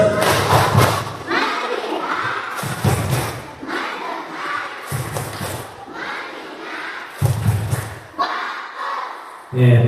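Schoolchildren at an elementary school Maulid Nabi celebration perform a tepuk fokus group clapping chant, loud bursts of synchronized claps and shouted voices repeating in several rounds, with crowd noise between them.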